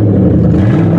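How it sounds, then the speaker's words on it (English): A junked Lincoln Continental's engine revving just after starting, a loud, close, rough low rumble holding steady with throaty pulsing and no voices. "Oh my God, it runs."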